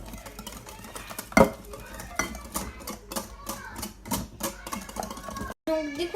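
Chocolate cake mixture for a no-bake fridge cake is stirred in a bowl, with a steady run of scraping, clattering strokes at close range, including one louder knock early on.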